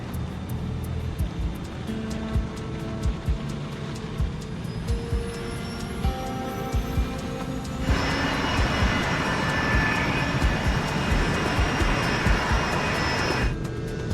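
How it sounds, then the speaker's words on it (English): Airliner taxiing to the runway, a steady loud engine roar with a whining hum and rushing noise that swells partway through, heard alone without voices. "The crew taxis to the runway."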